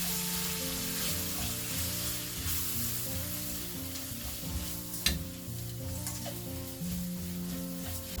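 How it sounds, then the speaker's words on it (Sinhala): Ingredients for a turkey curry being stirred with salt in a pan: a steady sizzle with scraping stir strokes under a tonal music bed, and one sharper clack midway. "මේ දෙක එකතු කරලා මේක හොඳට අපි කලවම් කරගමු."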